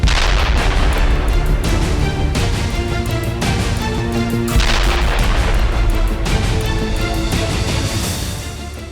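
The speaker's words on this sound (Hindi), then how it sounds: "पुतिन के पैंथर्स ने जल थल नभ से ताबड़तोड़ प्रहार किए" Artillery fire and explosions in the Russia–Ukraine war pound without letup, a loud, dense barrage of overlapping booms and blasts rolling continuously with no pauses or voices.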